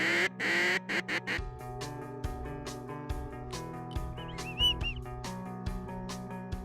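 Ducks quacking during a duck hunt on a windy day, a series of short, rhythmic, nasal quacks in quick bursts. The calls are moderately close and fairly quiet, with no talking.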